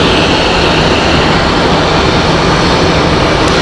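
An Edelweiss airliner in Help Alliance livery at Zurich Airport produces a loud, continuous broadband engine roar nearby, steady for the whole few seconds with no voices over it.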